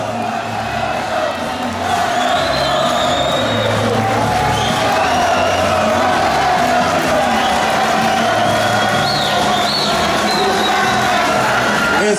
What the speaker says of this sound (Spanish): Es el aplauso